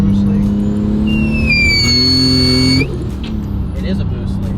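A Nissan R34 Skyline revs and accelerates hard during a pull, its engine note climbing steadily in pitch alongside a rising whine before dropping off abruptly as the throttle lifts, loud and close from inside the car.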